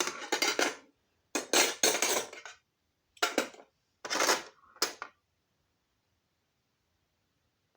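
Metal serving spoons and utensils clatter in a kitchen drawer in four or five short close bursts, then silence.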